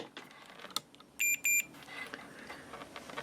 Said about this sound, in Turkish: Multimetremizi buzzer konumuna alıyoruz